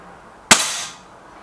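A single air rifle shot from a BSA Lightning SE or Gamo Whisper X, one sharp crack close by with a brief ringing decay, then quiet.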